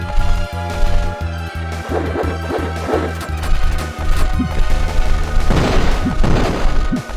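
Explosions in the E.G.G. Elemental Gimmick Gear video game: repeated booming blasts and crashes over a thumping game soundtrack with a regular beat, loud and busy throughout.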